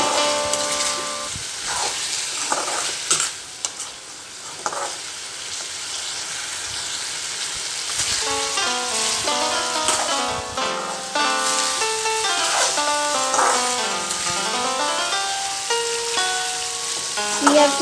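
Eggs added to a capsicum gravy fry and sizzle steadily in the pan with a few stirring scrapes, while background music plays throughout.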